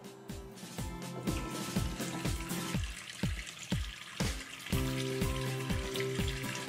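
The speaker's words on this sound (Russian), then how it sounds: "Для этого откроем кран питьевой воды на 10 минут." Tap water runs through an Aquaphor Crystal H drinking-water filter, giving a steady rushing splash with rapid, rhythmic knocking pulses underneath, moderately quiet and continuous without speech.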